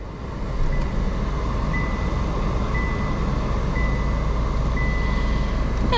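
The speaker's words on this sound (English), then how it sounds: "We've got the old switchblade key, which we need to stick in and turn it to start the car." A 2025 Chevy Trax starts from a flip-out switchblade key, and its engine settles into a steady low idle with a soft repeating chime heard inside the cabin, no voices.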